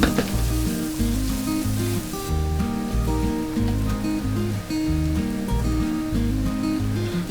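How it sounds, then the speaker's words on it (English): Chopped green chili and small-cubed carrots frying in a pan, a loud, steady close sizzle with a continuous crackle that holds throughout, no voices. "Fry it until the carrots are nice and soft."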